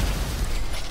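Loud, dense explosion blast in GTA 5 Online, a single continuous rumbling boom filling the whole moment with no voices.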